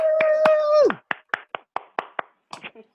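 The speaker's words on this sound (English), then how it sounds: "Please give them a round of applause." A drawn-out cheering voice gives way to a short run of crisp, close hand claps, about eight evenly spaced claps, welcoming new members at an online Toastmasters club meeting.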